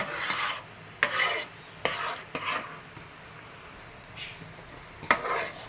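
A jackfruit mixture stirred continuously in a pan, giving repeated scraping, rasping strokes in uneven bursts, fairly close, with no voices.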